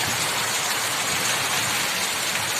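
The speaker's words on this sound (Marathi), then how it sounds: "आज सातारला पाऊस पडलाय आज आपल्या लिमला पाऊस पडलाय" Summer rain falls in Satara, a steady hiss of drops filling the air evenly and fairly loud, with no voices or other distinct sounds.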